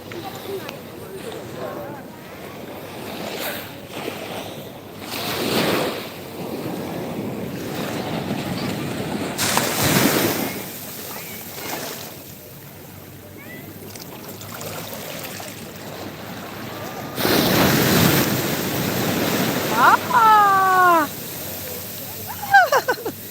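Ocean waves washing onto a sea shore, broad surging rushes that swell and fade under wind buffeting the microphone, with people talking nearby throughout.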